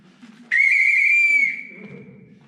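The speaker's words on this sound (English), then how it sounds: "So that's a genuine Great Central Railway whistle." A genuine 1920s Great Central Railway whistle, blown by mouth, gives a single shrill, steady blast lasting about a second, close and loud, with quiet background murmur before and after.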